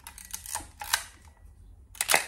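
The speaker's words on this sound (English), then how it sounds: "Now, listen to this shutter." A Topcon Auto 100 35mm SLR film camera fires its shutter close up: several crisp mechanical clicks and clacks in quick clusters, with short quiet gaps between them.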